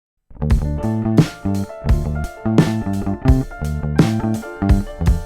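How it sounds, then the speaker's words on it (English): A small band playing out of sync, drums, bass and chords landing at mismatched moments in a clumsy, uneven rhythm, loud and close. "When musicians don't play to the same beat, it sounds like this."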